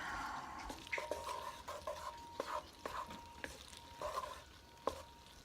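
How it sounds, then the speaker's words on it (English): Butter being stirred into hot, drained, unrinsed macaroni noodles with a spoon, giving soft wet squishes and light scraping clicks in an irregular rhythm, close and moderately quiet, with no talking. "I'm just going to stir this butter around in the noodles just to melt it"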